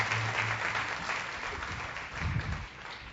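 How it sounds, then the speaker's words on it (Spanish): Steady audience applause at a church service with a pastor, a dense wash of many hands clapping together that holds fairly evenly for a few seconds. "Dale un aplauso"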